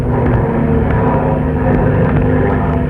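Propeller airplane engine sound effect from a 1976 radio drama broadcast, a loud steady droning rumble filling the scene as the aircraft banks, with no talk over it.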